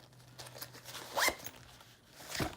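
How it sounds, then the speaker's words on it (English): A zipper on the pocket of a Supreme SS19 shoulder bag is drawn in one short pull, then a second quieter zip follows about a second later, close up with no voices. "I'll show the zipper one more time with the pocket."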